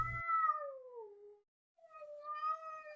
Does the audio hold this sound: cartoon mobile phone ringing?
no